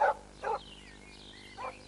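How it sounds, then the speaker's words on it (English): Rusty the farm dog barking from beside a ditch in a farmyard story, three short, sharp barks spaced apart at moderate volume. "Why is Rusty barking?"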